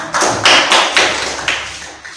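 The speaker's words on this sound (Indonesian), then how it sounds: "Tepuk tangan untuk kelompok 5." A small classroom group claps briefly for a student team after a teaching practice session, a short ragged patter of a few hands with soft thuds, close and fading after about two seconds.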